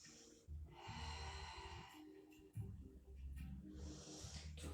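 Audible breaths in and out during a Pilates side-stretch and balance exercise, close and fairly quiet, with a soft sniffing inhale followed by airy exhales and no talking.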